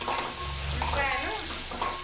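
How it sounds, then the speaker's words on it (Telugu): Onions sizzle in hot oil for egg curry, a steady close frying hiss with a light scrape of stirring through it. "ఇవే ఉల్లిపాయలు వేసుకోవాలి కాగిన తర్వాత"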